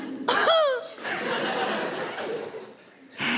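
A short cough bursts out near the start, followed by a soft, breathy exhale and quiet room noise, then another brief sound at the end.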